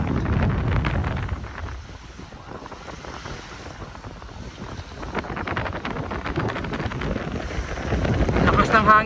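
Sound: strong wind blowing into microphone by the sea

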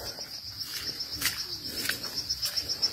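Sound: cricket chirping after rain

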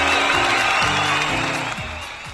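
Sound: audience applause

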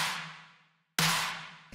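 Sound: layered clap/snare drum sample

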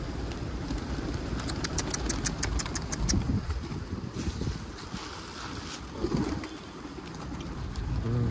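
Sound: wild pigeons

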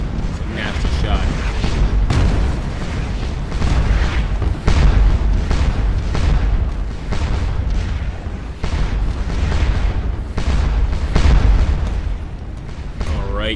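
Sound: artillery fire in the Scourge of War: Waterloo video game

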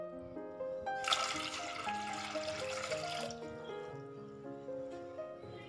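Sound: water poured into a pot for boiling

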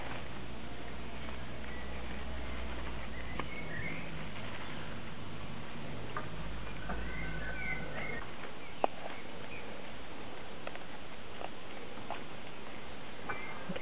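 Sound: birds singing in the forest

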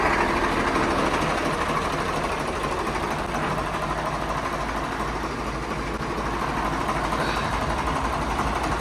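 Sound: tractor engine running as it is driven out

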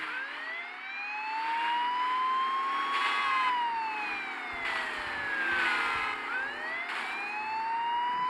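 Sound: police car siren

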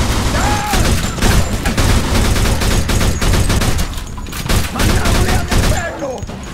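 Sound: gunfire in Mafia 2 video game shootout

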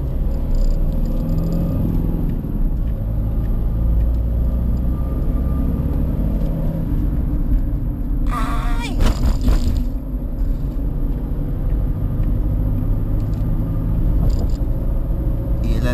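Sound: car engine revving during rev-match downshift to second gear

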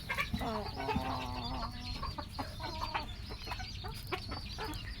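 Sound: silkie chickens and young roosters clucking

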